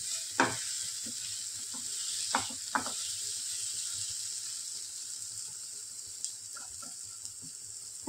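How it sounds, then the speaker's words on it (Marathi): Ingredients sauté in a hot pan with a steady, moderately loud sizzle, broken by a few sharp scraping stirs near the start and some softer clinks later. "दोन मिनिट आपण परतून घेऊ."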